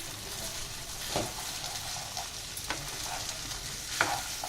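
Soaked basmati rice and green peas frying in a pan for pulao, with a steady sizzle broken by several scraping stirs of a spoon, close and fairly loud.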